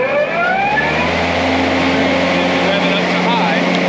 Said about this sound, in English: if we sat here and we just turned the blades,